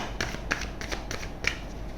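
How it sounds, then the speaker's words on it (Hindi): Tarot cards handled and shuffled close by, with several crisp snapping flicks and light rustles spread across the span, no voices. "अब मैं आपके लिए कुछ टैरो कार्ड्स भी ले लेती हूँ।"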